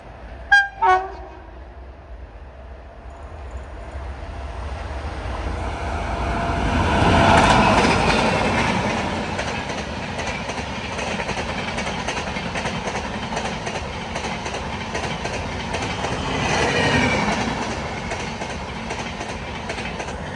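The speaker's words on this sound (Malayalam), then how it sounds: "Gandhidham Nagercoil junction weekly express ഇതാ കടന്നു വരികയാണ്." The Gandhidham–Nagercoil Junction Weekly Express passing Ezhimala Railway Station: a couple of short horn blasts at first, then a loud, steady rumble and clatter of carriages that swells as the train draws near and stays heavy as it rolls by.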